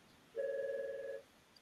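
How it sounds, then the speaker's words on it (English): A work telephone rings once, a single steady electronic tone lasting close to a second, fairly clear against a quiet room with no talking. "That's my work phone."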